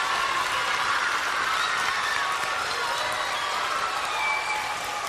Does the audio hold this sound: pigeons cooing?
no